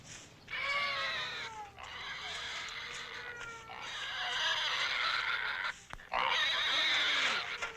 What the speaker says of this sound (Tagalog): Takanin mo na yung baboy!